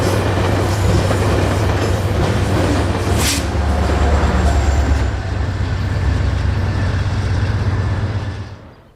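A Northstar commuter train rolls past near Minneapolis in the Twin Cities, a loud, steady rumble of wheels and cars with faint clacking, lasting throughout before fading at the end.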